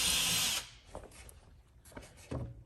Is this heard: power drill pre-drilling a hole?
yes